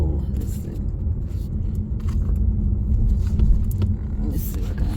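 A car driving along back roads, its engine a steady low rumble with occasional creaks and scrapes from the cabin, close and continuous.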